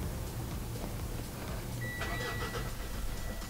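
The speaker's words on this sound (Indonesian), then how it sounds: "Oke, kita nyalakan mesin mobilnya dulu." A Mitsubishi Pajero Sport engine starts up: a low steady rumble runs throughout, with a brief higher whine near the middle as it catches, and faint voices in the background.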